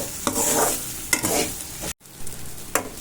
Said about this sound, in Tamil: இது கிண்டி விட்டு கொஞ்ச நேரம் வதக்கிட்டு நம்ம இறக்கிக்கலாம்.